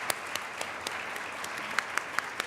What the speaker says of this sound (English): If you could please stand and give them a round of applause